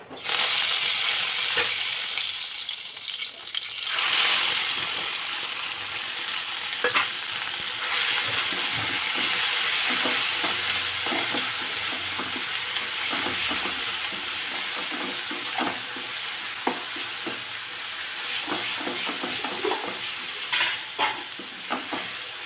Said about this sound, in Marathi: तेल तापलं की त्यामध्ये मोहरी आणि कढीपत्त्याची पानं घालायची.